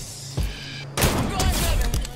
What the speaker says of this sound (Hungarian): készül egy heavy sniper lövés